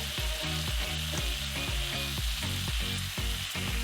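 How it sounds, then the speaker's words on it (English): Finely diced onions with garlic and spices fry and are stirred in a pan, a steady close sizzle running throughout with rhythmic background music. "we'll just start stirring those around with the garlic and the spices"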